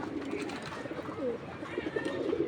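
Caged pigeons coo in low, rolling bursts that repeat throughout, close and moderately loud over a steady hum of background noise.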